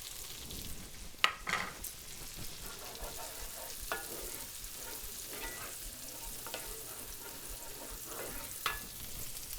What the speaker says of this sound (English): gonna add our green onions and our chives